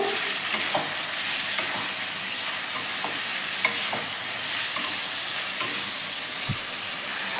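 Marinated chicken fries with a dense, steady sizzle in a pan, punctuated by occasional scrapes of stirring, close up and continuous.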